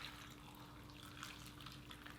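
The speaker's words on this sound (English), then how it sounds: "Now let's just add some water." Filtered water pours into a pot of apple chunks in a faint, steady trickling stream, with a low hum beneath and no speech.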